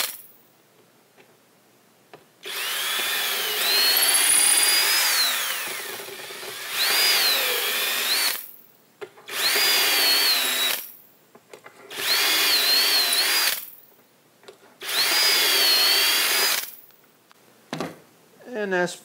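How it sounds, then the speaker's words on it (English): A power drill whirs in several bursts of a few seconds each, biting into wood with rising and falling pitch, separated by short pauses. "So then I can just drill the rest of them."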